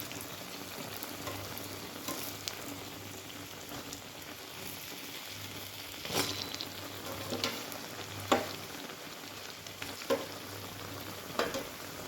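Medu vada fry in hot oil until golden, giving a faint, continuous crackling sizzle with a few scattered clicks.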